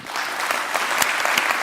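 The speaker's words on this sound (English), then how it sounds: "Let's get a great round of applause for Tess." Conference audience at WordCamp Europe 2023 claps after a talk, producing a short burst of dense, close applause at a steady level with no talk.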